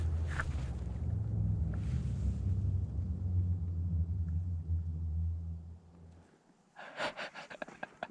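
A booming sand dune at Eureka Dunes rumbles with a steady, deep droning hum for about six seconds, then stops while people breathe and talk faintly nearby.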